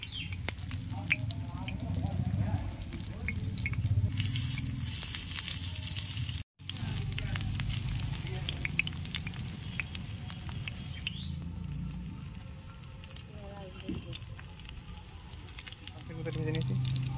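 Paneer tikka kebabs fry on a hot tawa with a steady, close sizzle and spattering crackle that runs the whole length, broken by one brief silent gap, under faint background sounds.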